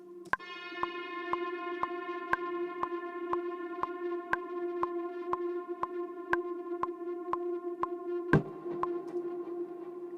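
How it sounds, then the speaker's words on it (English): A metallic anvil-like synth preset pulses in a steady repeating pattern, drenched in heavy reverb and light distortion so each hit blurs into a continuous droning wash, ending with a louder crash. "what I've done is added loads of reverb and a bit of distortion on the sound as well"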